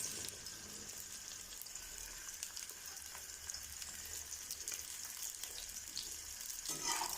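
Cut okra, washed and dried, sizzles and crackles in hot oil in a home kitchen for an aloo bhindi sabzi, a steady close frying hiss with popping bursts and a louder flare near the end.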